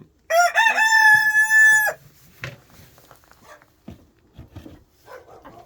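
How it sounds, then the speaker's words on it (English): A big rooster lets out one loud, drawn-out crow close by, followed by scattered softer clucks, shuffling and other bird and animal noises. "The big rooster and little rooster."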